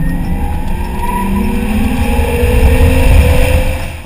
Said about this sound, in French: Le sifflement du moteur se fait de plus en plus strident et couvre alors le chevrotement de la courroie.